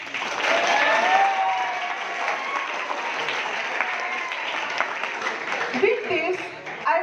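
An audience at a high school valedictory function applauds in a sustained burst of clapping that stays dense for several seconds, with crowd noise and some voices mixed in before it begins to thin toward the end.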